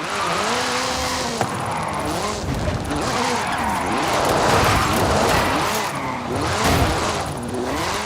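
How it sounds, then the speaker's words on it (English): Hoonigan Gymkhana 10 Ford Focus RS RX, a 2-litre turbocharged all-wheel-drive rally car, revs hard and swoops up and down in pitch as it is driven aggressively nearby, with tire noise and voices mixed in. "This is Mr. Kenneth Block's Hooligan Gymkhana 10 Ford Focus RS RX. 2-litre, turbocharged, front-mounted engine and all-wheel drive."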